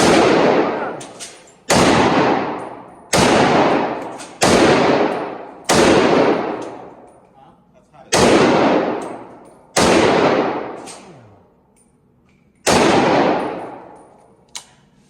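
Handgun shots at an indoor gun range: eight loud, sharp reports spaced a second or two apart, each followed by a ringing echo that fades before the next shot.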